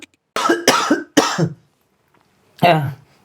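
Three sharp coughs come in quick succession, then a pause, then one more cough, all close and loud.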